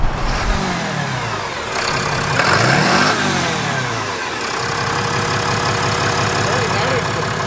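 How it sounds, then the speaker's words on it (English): A RAM Cummins diesel truck engine runs loud and close, its intake and turbo whooshing as it revs up and settles back to a steady rumble. "Let's hear that intake now too."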